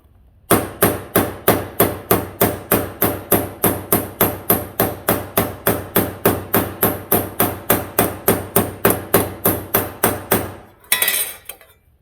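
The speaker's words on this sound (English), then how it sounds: "see that I'm just letting the hammer do the work." A hammer taps sheet metal in a steady rhythm, shrinking a compound fold, about thirty sharp ringing blows in a row, close and clear, then stops.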